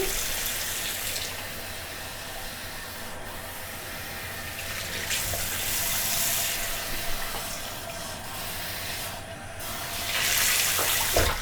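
Wet hair being dunked and swished in water while styling a curly afro, a steady close sloshing and splashing wash that swells louder near the end, with no talking.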